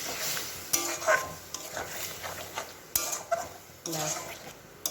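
Prawns stirred with spices in a pan on the stove, with scraping spoon strokes, soft sizzling and a few clinks of utensil on metal in short separate bursts.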